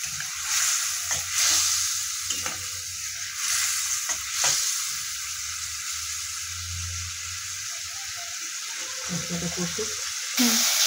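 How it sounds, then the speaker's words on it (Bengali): Spice paste fries and is stirred in a pan for a fish roe curry, a steady hissing sizzle broken by scraping stirring strokes, close and continuous. "ভালো করে মশলাটা কষাবো।"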